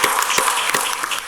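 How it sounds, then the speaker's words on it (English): A brief burst of audience applause for a police chief at a downtown forum, dense and fairly loud clapping with a few sharper claps standing out. "Give a round of applause for Chief Smith"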